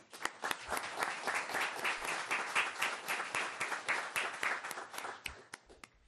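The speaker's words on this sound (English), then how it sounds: "So Talia, I applaud you." Steady, fairly faint applause from a crowd, many hands clapping continuously before fading at the end.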